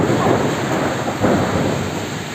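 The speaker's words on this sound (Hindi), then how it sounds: "तो आज काफ़ी दिनों बाद दीपू में बारिश है" Thunderstorm over Diphu: steady heavy rain hiss with low, rolling rumbles of thunder swelling twice, close and loud, with no voices.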